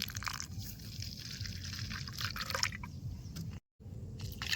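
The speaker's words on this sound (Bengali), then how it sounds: "এবারে মশলার মধ্যে দিমু জল" Water poured into a spice paste for a village-style rohu fish curry, a steady liquid trickle and splash running continuously, with a brief dropout near the end.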